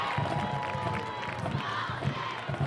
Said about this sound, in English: Nice big crowd here.